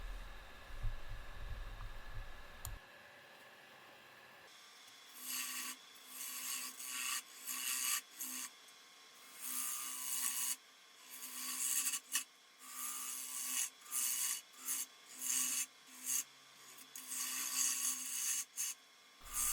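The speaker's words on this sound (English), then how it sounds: "I'm just scooping out that area as much as I can" A half-inch bowl gouge scoops out the hollow of a wooden wig stand spinning on a lathe, giving repeated bursts of rough, rasping cuts that come and go in uneven rhythm over a steady low motor hum, with no talking.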